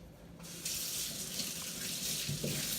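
Ginger root is washed under a running kitchen tap. A steady, close stream of water splashes continuously into the sink, with no one speaking.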